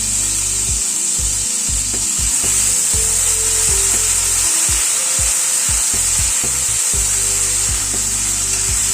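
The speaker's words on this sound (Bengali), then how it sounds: "আদা আর কাঁচা লঙ্কাটাকে জাস্ট একটুখানি নাড়াচাড়া করে নেব।" Ginger and ripe red chili paste stirred in a pan for a gandharaj potol dalna, with repeated loud scraping strokes of a spatula over a constant frying hiss.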